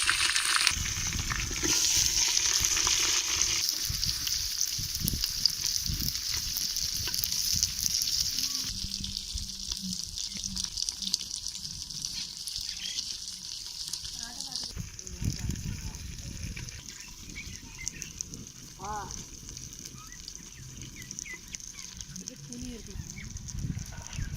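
Green cloves and onion frying in oil in a pan, a steady sizzling hiss with occasional stirring scrapes, fairly close, while a voice talks over it at times.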